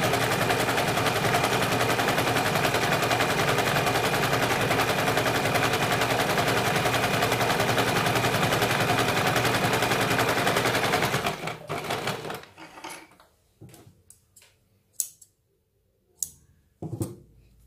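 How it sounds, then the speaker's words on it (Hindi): Sewing machine running a double line of stitching on a katori blouse, a loud, continuous rapid whir for about eleven seconds, then stopping, followed by a few scattered handling clicks and knocks. "इसके ऊपर हमें डबल सिलाई लगानी है।"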